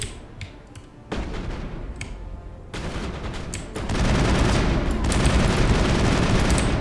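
Gunfire in the video game Mass Effect: bursts of rapid shots in several bouts, growing louder and denser toward the end, with no voices heard.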